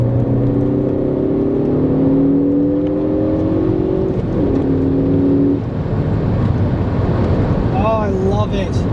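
A 2013 Ford Focus ST hot hatch engine accelerates in a steady, loud drone with rising harmonic pitch sweeps, dipping briefly midway before pulling again, with road and wind noise throughout.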